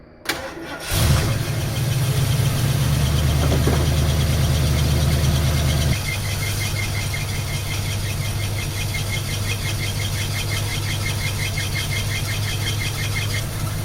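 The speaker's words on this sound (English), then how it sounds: "start the engine, and just dump all of this coolant out and run it till it runs clear" A 1978 Continental Mark V V8 cranks, catches and settles into a steady, loud idle with a faint knock, running alone with no talk.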